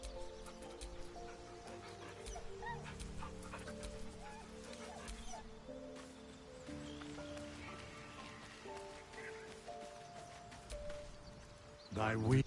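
A dog whimpers and barks in the video game Baldur's Gate 3, heard under steady background music with game voices talking around it.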